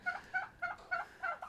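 Turkeys, including a tom, gobble in five quick, rattling bursts, one after another, fairly faint and a little distant in a barnyard with no talking.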